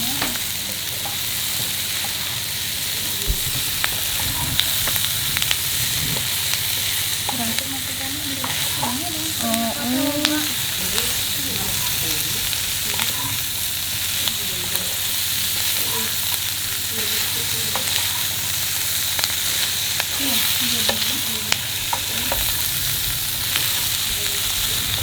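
Cut pieces of corned beef fry in a pan, giving a continuous dense sizzle with intermittent scraping and clinking as they are stirred.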